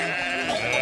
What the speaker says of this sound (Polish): Owce zdezorientowane.